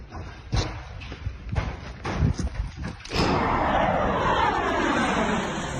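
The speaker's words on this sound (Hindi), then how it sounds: "रशिया के most advance Sukhoi 35 fighter plane बेधड़क होकर यूक्रेन पर जमकर बमबारी कर रहे हैं।" Russian Sukhoi Su-35 fighter jets over Ukraine, a loud sustained jet roar that swells in and holds steady, preceded by a few heavy thuds and rumbling.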